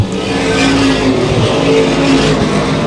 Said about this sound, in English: You hear the engine roar to life down the front straightaway.